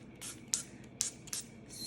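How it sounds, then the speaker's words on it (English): Several short, hissing bursts from a spray bottle of water during a craft project, spaced unevenly and close by, each a quick sharp spritz in a quiet room. "spray the water right on top"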